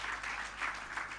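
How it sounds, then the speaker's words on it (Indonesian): Congregation applauding during an Indonesian church worship service, a steady, dense wash of clapping that stays fairly quiet and even throughout, with no voices over it. "tepuk tangan bagi Tuhan Yesus"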